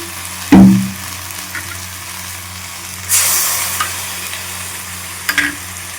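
A utensil stirs poppy seed paste curry in a hot pan, giving three separate scraping, sizzling bursts spaced a couple of seconds apart over a low, steady frying hiss, with no talking.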